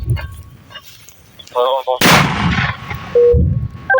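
A sudden loud boom of a big gun firing close by, with a rumbling tail, preceded by brief quiet talk and a short tone.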